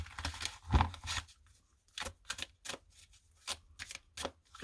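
Oracle cards shuffled by hand in several bursts of riffling and sliding, close and fairly loud, with short quiet gaps between the rounds and no talking.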